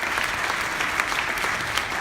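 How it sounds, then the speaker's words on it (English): A live audience claps a steady, dense round of applause for a woman standing up at a gathering, the sustained clatter of many hands continuing evenly without pause. "Can we give Shati a round of applause as well?"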